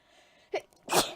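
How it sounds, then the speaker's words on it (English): A single close sneeze: a short sharp intake followed by one loud burst, heard alone against a quiet room. "I just sneezed"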